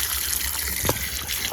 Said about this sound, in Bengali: আমি আম ধুয়ে নিচ্ছি